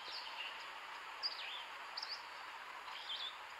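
Faint, sparse bird chirps from the Hunting Simulator 2 video game sound in the distance, a few short tweets over a steady, quiet background hiss.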